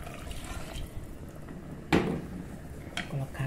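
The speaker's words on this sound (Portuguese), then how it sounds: "eu vou colocar água aqui." Water poured into a cooking pan while preparing a home lunch, a soft, quiet splash with a brief sharper clink of the pan near the middle, set against low kitchen background noise.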